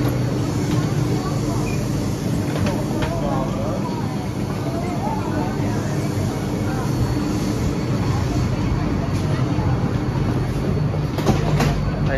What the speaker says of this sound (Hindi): तो ये आ गई स्काई ट्रेन, करते इसके अंदर इंटर, चलते हैं भाई।